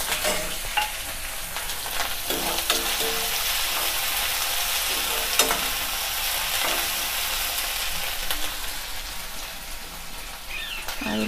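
Onions with ginger garlic paste fry in a pan for a ripe cucumber bhaji, giving a dense, steady sizzle broken by occasional stirring scrapes and clicks.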